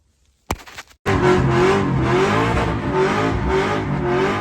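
A car with an aftermarket driveshaft loop fitted starts with a brief sputter, then roars hard under acceleration, with the engine pitch climbing steadily. It is loud and close, with no talking.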